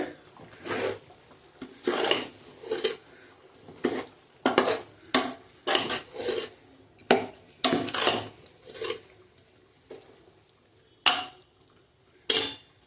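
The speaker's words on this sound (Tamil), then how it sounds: "கிண்டிக்கிட்டே இருக்கணும், நல்லா கிண்டிடணும்." A spoon scrapes and stirs half-cooked rice with masala for mutton biryani in a metal pot, giving repeated rhythmic rasping strokes with brief gaps, close and clear.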